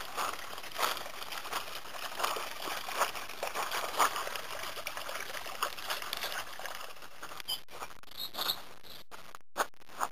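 Water trickles and patters steadily in a garden water feature at Gwydir Castle, a continuous close splashing wash that is joined near the end by a few clicks and handling noises.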